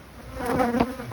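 Honey bees and drones buzz inside a beehive, a close, swelling hum that peaks briefly before easing off.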